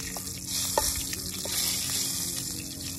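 Spices stirred and frying in a pan for a village-style chicken biryani: a steady sizzle with scraping stir strokes, close and continuous, with no talking.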